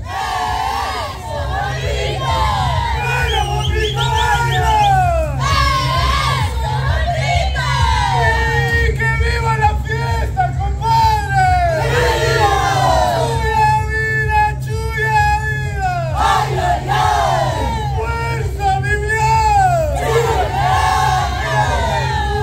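An audience cheers, whoops and yells loudly and continuously after a performance by an Ecuadorian group, with shrill shouts and whistles over a steady low drone.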